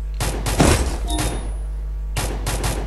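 Bursts of video-game gunfire from Free Fire, two dense volleys with a pause between, the second trailing off; loud and close, with a brief metallic ping in the gap.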